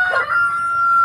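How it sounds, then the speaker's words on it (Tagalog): A Rhode Island Red rooster gives one brief, loud, sustained crow that rings steadily close by with no other sound around it. "Isang inahin saka isang tandang."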